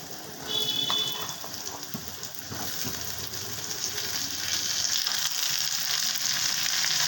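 Thin, long potato strips, washed and drained, frying in hot oil, giving a loud, steady sizzle with occasional stirring and scraping sounds throughout.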